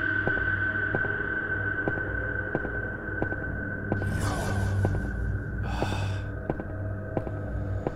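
Slow, low breathing inside the SCP-087-B horror game, heard against a steady droning hum with faint periodic ticks, plus two brief airy bursts midway.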